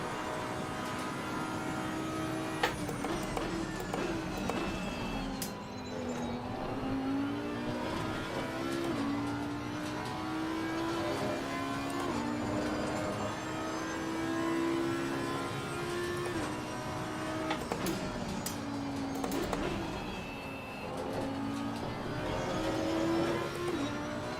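A GT race car at Imola in Assetto Corsa Competizione screams through the gears with rising and falling engine pitch, continuous and steady, alone without talk.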